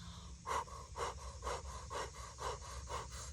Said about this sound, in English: We're going to be breathing in a breath of fire through an O-shaped mouth.